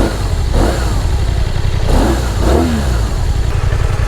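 A BMW motorcycle engine, loud and close, revs and accelerates with a few rising pulls over a continuous rumbling drone.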